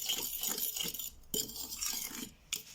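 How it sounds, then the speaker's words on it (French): Onion, salt, pepper, crème fraîche and two eggs being mixed in a bowl: soft, irregular clinks and scrapes of a utensil against the bowl, close and quiet, in uneven bursts. "vous mélangez bien le tout."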